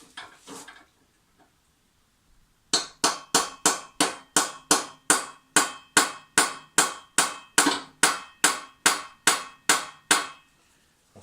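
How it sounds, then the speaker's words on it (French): Hammer tapping a socket onto a slightly deformed screw on a Honda lawnmower: after a brief knock and a pause, about nineteen evenly spaced, sharp metallic taps ring out in a steady rhythm, close and clear. "faut que je rentre la douille avec un marteau"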